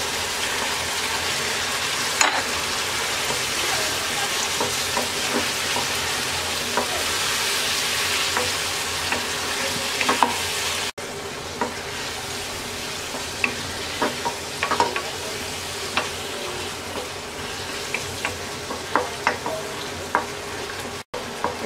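Okra and diced potatoes fry in a spiced masala, a steady close sizzle running throughout with scattered clicks and scrapes of stirring; no one speaks.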